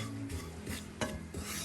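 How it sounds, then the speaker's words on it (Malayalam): A spoon stirs grated coconut and spice powder dry-roasting in a pan over low flame, giving soft repeated scraping and rubbing strokes with a faint sizzle, close and steady with no talk. "പൊടി കരിഞ്ഞു പോകാതിരിക്കാൻ നമുക്ക് ലോ ഫ്ലെയിമിൽ തന്നെ വറുക്കണം."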